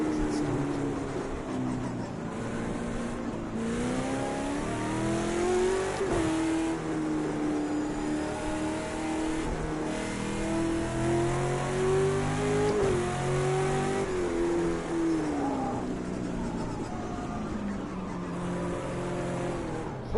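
Race car engines drone and rev continuously on an out lap in a sim racing game at Daytona Road Course, with the engine pitch rising and falling through gear changes, loud and steady with faint talk beneath.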